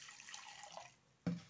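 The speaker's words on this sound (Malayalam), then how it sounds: "ജാറ് കഴുകി" Water runs and splashes as a mixer jar is rinsed, a soft watery wash followed by a sharper splash near the end.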